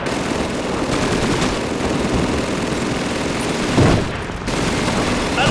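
Sustained machine-gun fire in the video game Call of Duty 2 rattles continuously and loudly, with a brief dip near the end amid a dense battle soundscape.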